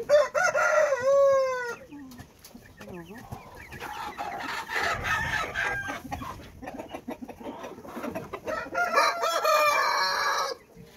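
A poultry flock being readied for coryza vaccination crows and clucks nearby, loud rooster crows at the start, then busy overlapping clucking with a faint voice underneath.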